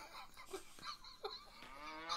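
Cartoonish cow moos from the Windows 3.1 game Gus Goes to the Kooky Carnival, several short bellowing calls in quick succession that end in a longer, drawn-out moo.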